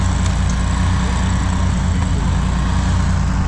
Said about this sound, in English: run the chipper, somebody feed the chipper man